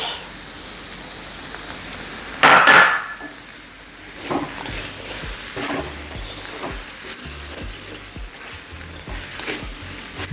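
Bok choy tossed into a pan of vegetable nasi goreng, giving a sudden loud sizzle and hiss followed by repeated clatter and scraping of a utensil stirring the fried rice, with steady frying underneath.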